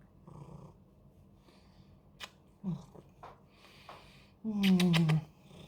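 A cat makes low grumbling growls and a drawn-out, moaning meow close by, with quiet moments between the sounds.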